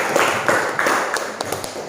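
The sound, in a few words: applause for the students in a classroom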